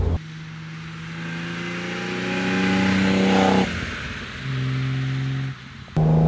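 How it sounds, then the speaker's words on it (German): A restored 1969 Mercedes 280 SL Pagode with a four-speed manual gearbox accelerates hard, its engine climbing through revs, dropping at a gear change, then pulling again, close and fairly loud inside the car. "Auto fliegt richtig los."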